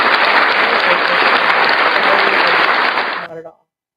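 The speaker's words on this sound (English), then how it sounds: "it's just like a laughing track, an applause track" A recorded applause track plays from a small gadget, loud and close, a dense wash of clapping that holds steady for over three seconds and then fades out quickly.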